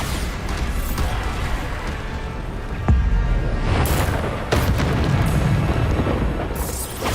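Bombarda exploding spell cast during Hogwarts Legacy gameplay on Xbox Series X: loud booming blasts over a dense rumbling game soundscape, with sharp bursts near 3 and 4.5 seconds.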